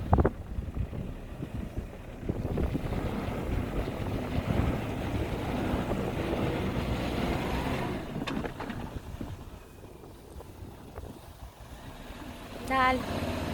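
Strong wind roars across the microphone as a Suzuki Jimny 4x4 tries to climb loose stones off-road, a broad, gusty rumble running nearly the whole time, easing slightly toward the end.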